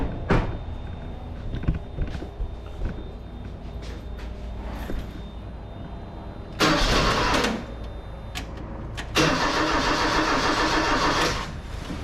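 A Ford Courier pickup engine cranks and fires up, loud and close: a rough stumbling start gives way to two bursts of roaring revs between uneven idling, with no talking.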